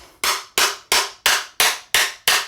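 A star nut hammered into a titanium mountain bike fork: seven loud, evenly spaced metallic hammer strikes, each ringing briefly, close and alone.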